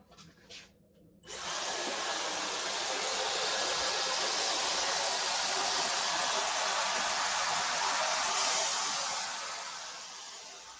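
A handheld hair dryer switches on after a brief moment and runs steadily as a loud, close, continuous blowing whir with an airy hiss, with no talk over it.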